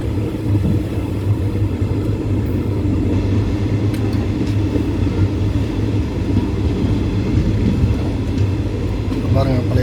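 An unreserved express train on the Mannargudi to Mayiladuthurai route stands at a small station, a steady low engine hum and rumble running throughout, with someone talking over it.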